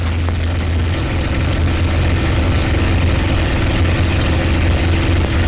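A P-51 propeller fighter's engine during aerobatic flight, a loud, steady low droning roar that holds unbroken through the whole stretch, with no voices.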